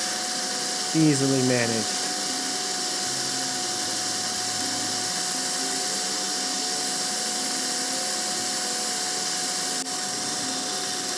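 Dental suction runs during a laser procedure, a constant close hissing whine with a thin steady tone that persists throughout while a voice speaks briefly near the start.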